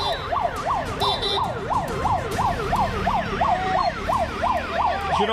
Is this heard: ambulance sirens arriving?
yes